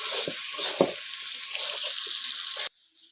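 Potatoes fry in a pan for a raw jackfruit curry, giving a bright, steady sizzling hiss with a few stir knocks, close up, before cutting off abruptly near the end.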